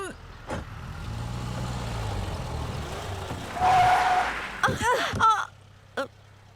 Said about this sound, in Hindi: फिर से ब्रेक क्यों लगाया?